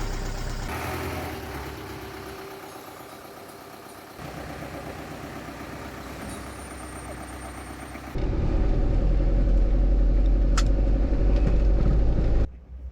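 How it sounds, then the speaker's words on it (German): A van's engine runs steadily on a drive through Nicaragua, a continuous low rumble that grows louder and heavier partway through, with no talking. "Der Motor läuft seit 50 Minuten jetzt."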